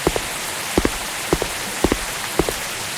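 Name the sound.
rain in a video game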